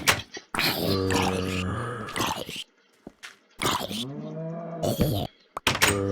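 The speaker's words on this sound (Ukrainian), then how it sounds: "мені не подобається, як тут корови звучать, вони звучать страшно" Deep, drawn-out cow moos in Minecraft sound in two long bellowing calls separated by a pause, with short grunting bursts around them.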